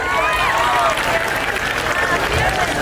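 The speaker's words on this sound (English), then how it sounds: "A big round of applause for the dancer." Dense, continuous clapping from a festival crowd applauding a dancer fills the space, with voices and cheering layered on top.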